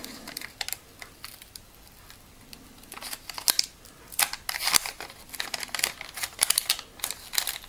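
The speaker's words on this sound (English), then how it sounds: "peel the paper off again." Paper is peeled off a circuit board in close, crinkly tearing and crackling bursts, irregular and growing busier toward the end, with no talking.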